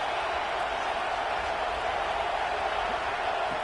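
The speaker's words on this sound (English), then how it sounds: "And here comes the noise. This crowd is trying to inspire this defense to make a big red zone stop." Stadium crowd noise at a Florida State vs Oklahoma football game during a red zone stand: a steady, loud, far-off roar of many voices that holds constant without breaks.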